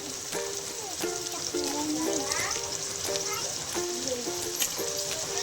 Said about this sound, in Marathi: हे सगळं कांदा लाल थोडासा भाजून घ्यायचं